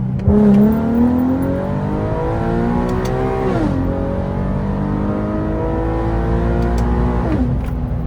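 Infiniti G37 with a VR30 engine and upgraded transmission revving up through the gears, rising engine pitch dropping sharply at each shift, loud and close with no talking.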